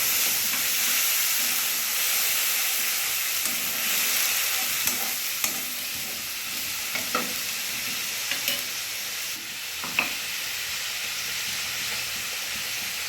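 A paste of tomato, ginger and green chili sizzles steadily in a pan of hot oil with cumin for a koi fish curry, a continuous close hiss punctuated by occasional scrapes and clicks of stirring.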